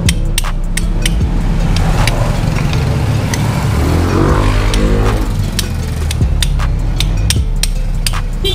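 Sharp metallic taps from hammering on a Rusi Sigma 250 motorcycle engine part, one that had locked up with sludgy oil, ring out repeatedly and unevenly over a loud, steady engine-like drone.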